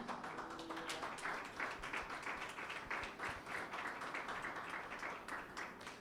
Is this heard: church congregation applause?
yes